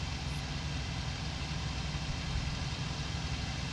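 An aircraft engine in the combat flight simulator IL-2 Cliffs of Dover, a steady, loud droning roar that holds constant with no pauses and no voices.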